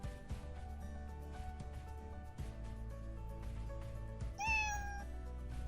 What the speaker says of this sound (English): now this sprite is playing sound meow